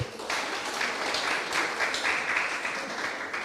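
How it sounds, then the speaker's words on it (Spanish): A crowd claps in steady applause for a few seconds at a church Mass, dense and sustained, moderately loud with no clear talking over it. "un aplauso para la hermana y para ustedes"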